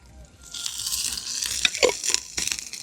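Fish fries in hot oil, village style, with a bright, building sizzle and crackle, close and loud, plus a few sharp spatters and stirring scrapes.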